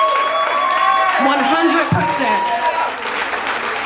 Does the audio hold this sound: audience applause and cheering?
yes